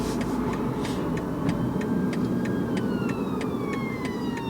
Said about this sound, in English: You staring at the ambulance